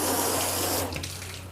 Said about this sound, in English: So only really 2 panels, 2 sections that we completely flood with water.